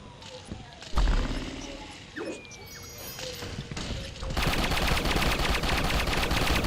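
Gunfire rattles in the online shooter Gotham City Impostors, scattered shots early and then a sustained burst of rapid fire near the end, with players chatting over it.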